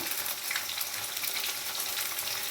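Onions and curry leaves frying in a pan, a steady close hiss and crackle of sizzling oil that runs evenly throughout with no voices.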